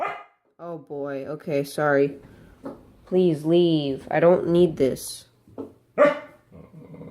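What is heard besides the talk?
dog barking and growling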